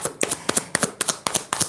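Tarot cards riffle-shuffled in a quick, even rhythm of about seven crisp bursts, close and alone with no talking.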